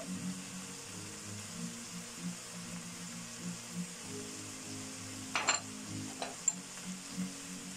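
Leeks cooking down in a pan give a quiet, steady sizzle with a low hum beneath, a few brief clinks and stirring scrapes near the end.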